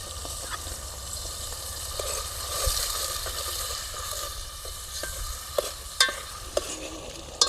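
Paneer masala gravy with turmeric sizzling in a pan at a farm, a steady close frying hiss broken by occasional spoon knocks and stirring scrapes, louder toward the end, with no talk.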